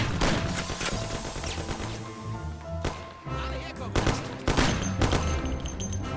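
Thompson submachine gun fire in the video game Mafia, loud bursts and single cracks clustered over a continuous layer of background game noise, with sharper reports toward the end.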